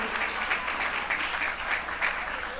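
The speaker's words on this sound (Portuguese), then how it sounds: "Aplaude com bastante alegria, glorifica e exalta o nome do Senhor Jesus Cristo." A church congregation applauds during a worship service, a steady dense wash of clapping from many hands sustained throughout with no talk over it.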